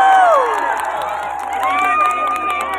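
Large outdoor crowd cheering and shouting at a New Year 2023 countdown celebration in Vinh city square, Nghe An, a dense steady roar with whistles and an amplified voice over it.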